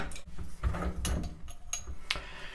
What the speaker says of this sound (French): Tu dévisses les écrous